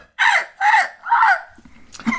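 Repeated harsh bird cries from the low-budget horror film Birdemic, three loud squawking calls in a steady rhythm followed by a fainter cry, close and without speech.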